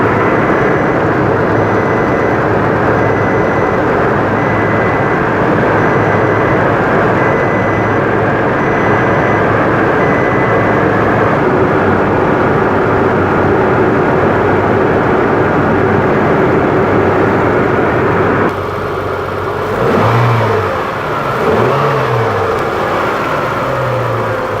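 A 6-litre car engine idles steadily through an engine test, a continuous low mechanical drone that stays close and even, with a slight change near the end.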